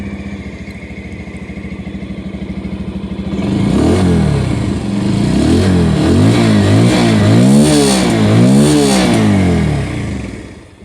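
A 2022 Bajaj Pulsar 150 BS6 motorcycle idles with a steady low thrum, then is revved repeatedly in rising and falling swells, loud and close.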